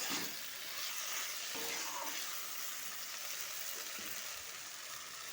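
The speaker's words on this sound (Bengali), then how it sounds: "মশলা দিয়ে শশা কষানো হয়ে গেছে" Cucumber sautés with spices in a pan, giving a steady, soft, continuous sizzle and hiss throughout, with faint occasional stirring.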